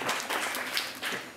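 Brief burst of audience applause, a dense, even patter of many hands clapping close by.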